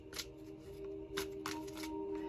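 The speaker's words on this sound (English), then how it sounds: "Let me do a little side shuffle." A deck of cards is side-shuffled, giving a few quiet, short papery bursts of cards slipping together over a faint, steady background hum. No one talks.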